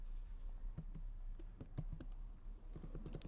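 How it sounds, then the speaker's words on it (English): Keys tap on a computer keyboard close by at an uneven pace, some quick runs and pauses, over a low steady hum, with no talking. "So let me try to type inside this."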